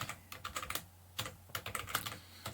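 Typing Python code on a computer keyboard: close, quiet bursts of rapid keystrokes in quick clusters with short pauses between them, no talk.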